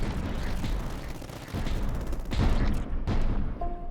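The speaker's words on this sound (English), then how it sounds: "Get down some more mortars" Mortar rounds launching in the tower-defense strategy game Tower Dominion, a dense barrage of loud booming blasts layered over constant rumbling battle noise, with heavier thumps bunching in the closing seconds.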